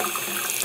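Hot water runs from a sink faucet in a loud, close, steady gushing stream with no voice over it.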